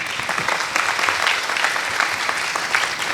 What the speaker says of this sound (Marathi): आमच्या सगळ्या छोट्या महाराजांसाठी एकदा टाळ्या झाल्या पाहिजे